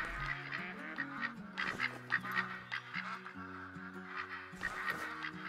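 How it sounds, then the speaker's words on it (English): A massive flock of waterfowl in the Call of the Wild hunting game, set in New England mountains, keeps up a loud, steady chorus of overlapping honks and quacks, close by and unbroken. "there's a massive flock of ducks here"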